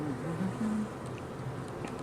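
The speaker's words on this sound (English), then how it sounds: "I've seen a bunch of bees with full pollen baskets." Honey bees buzzing around an open hive during an inspection, a close, wavering drone as individual bees pass near, with no voices.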